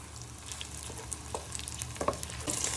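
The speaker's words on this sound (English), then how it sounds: "we'll keep adding everything to the pan so they go nice and golden as we're cooking" Sausages sizzle and spit steadily in a hot pan, with occasional crackles and the scrape of stirring, close and alone without voices.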